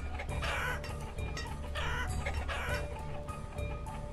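Noisy flock of chickens in the village-building game Banished, clucking and crowing steadily and close over game ambience for the whole stretch, with no talking.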